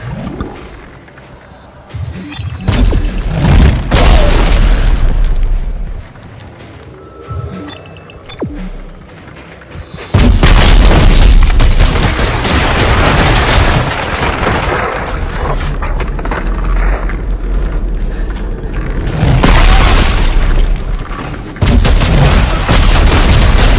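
Grenade blasts and heavy booms in the sci-fi horror game Dead Space 3, loud, rumbling explosions over dense gunfire and chaotic combat noise, with a sudden powerful burst partway through and sustained roaring after.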